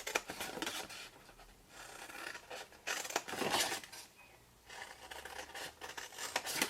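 A large pair of scissors cuts along score lines in a cardboard Yankee Candle jar candle box, making quiet, close crunching snips in short bursts with brief gaps between cuts.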